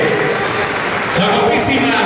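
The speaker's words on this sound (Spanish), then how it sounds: "aplaudan a nuestra reina entrante" Audience applauding an incoming queen at a coronation for Reina Expori 2014, steady dense clapping throughout with voices talking over it.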